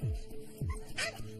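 Dogs at houses along a neighborhood walk bark sharply, two loud close barks followed by a higher yip, mixed with faint background voices.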